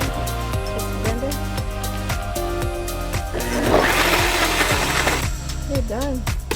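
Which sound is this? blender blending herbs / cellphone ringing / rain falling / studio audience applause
blender blending herbs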